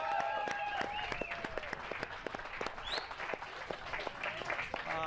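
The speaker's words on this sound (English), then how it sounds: "So can we give them a cheer?" A crowd at a season-finale racing series event at a circuit track claps and cheers for the team, steady scattered applause with whoops, fairly distant, as a voice briefly rises over it.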